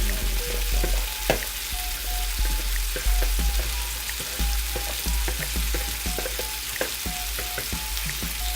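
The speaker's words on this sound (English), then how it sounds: "I like to have it get a little bit of a sort of fry on there before it starts to actually stew" Curry sizzling and frying in a pan, a constant close hiss with scattered pops and occasional stirring scrapes, no voices.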